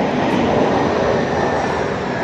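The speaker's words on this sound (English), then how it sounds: "Planes." Airplane passing overhead, a steady, loud broadband engine roar with no clear rise or fall, alone without talk.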